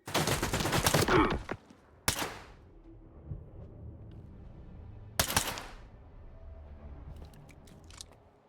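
Mercenaries fire pistols in the video game STALKER 2: a dense, loud burst of gunshots at the start, then two separate sharp cracks with quieter game ambience between, and no talking.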